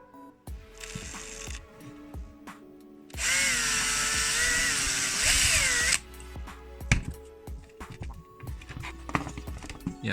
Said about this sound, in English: So let's try with the drill instead.